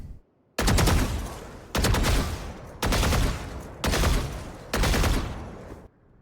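Gunfire from a shooter video game: five loud, close bursts of rapid automatic fire, each about a second long, separated by short pauses.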